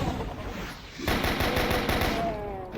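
Sustained rapid gunfire from enemy shotgunners in the Doom video game, a dense, loud burst of repeated blasts that kicks in about a second in and continues steadily to the end.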